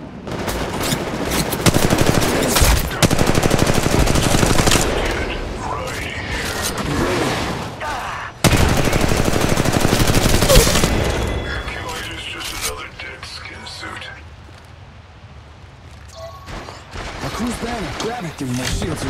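Automatic weapons fire in Apex Legends Mobile in long, dense bursts that roar for several seconds, pause, then resume more sparsely, with a character's voice lines mixed in.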